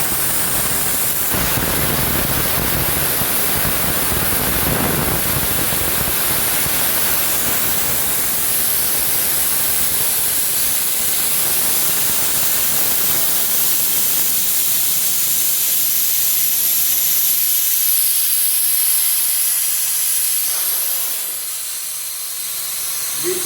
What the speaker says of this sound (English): So for us to test the outflow of the air